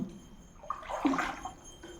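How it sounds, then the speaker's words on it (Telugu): Water sloshing and splashing inside the Guttikonda cave, where the passages have filled with water; a short, moderately close burst of watery movement swells in the middle and then fades, with no voices. "ఫుల్ నీళ్ళు వచ్చేసాయి"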